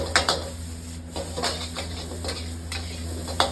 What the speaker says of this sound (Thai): ผัดเปิดไฟแรงแล้วผัดเร็วใช้กระทะเหล็ก